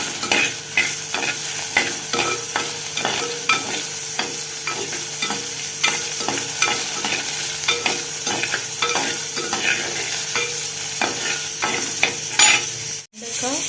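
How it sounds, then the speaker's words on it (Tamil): Steady, crackling sizzle of okra frying in hot oil, with scattered pops and occasional stirring scrapes, close and continuous throughout. "வெண்டைக்காய் நல்லா வதங்கிடுச்சு"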